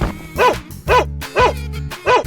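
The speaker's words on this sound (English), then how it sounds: "Dog." Cartoonish dog barks from a 3D animal slide video game, four loud evenly spaced woofs about half a second apart over a steady game-music bed.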